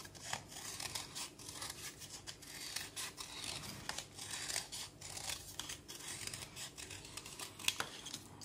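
Scissors snip and rub through paper or card, cutting out the inside of a circle for a junk journal cover. The cuts are quiet, close and steady, a run of short crisp snips.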